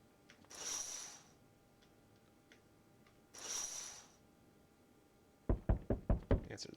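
Two bursts of knocking on a door in the horror game No I'm not a Human, close and moderately loud, followed by a quicker string of sharp, louder knocks near the end, with quiet gaps between.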